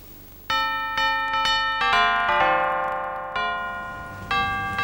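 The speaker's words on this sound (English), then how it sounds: "I'll need to take that bell off." A doorbell rings out in a melodic sequence of clear chime tones, each struck note overlapping and decaying as the next begins, loud and close with no talking.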